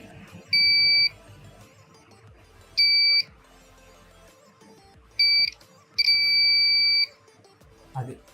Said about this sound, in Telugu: సో 3 volts బజర్ కూడా అయితే యాక్టివేట్ వర్క్ అవుతుంది